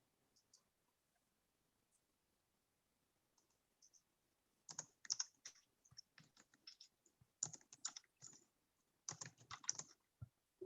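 Typing on a computer keyboard into a chat window: quiet, scattered clicks at first, then dense bursts of rapid keystrokes with brief pauses, close and clear with no talk.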